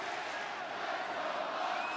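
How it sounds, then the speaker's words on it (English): Massive crowd roaring and cheering at a wrestling event in Cincinnati, a dense, steady wall of voices throughout. "massive crowd here in Cincinnati"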